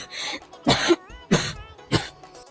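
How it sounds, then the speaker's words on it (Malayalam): A person coughs three times in sharp, separate bursts spaced evenly apart, close and fairly quiet, with a brief throat-clearing sound between them. "എന്തു പറ്റി? എന്തെങ്ങനെ ചുമക്കുന്നേ?"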